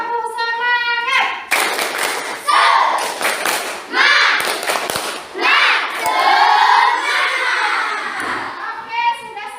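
A classroom group claps hands in a quick rhythmic spirit-clap pattern, with bursts of children's voices chanting and shouting between the claps.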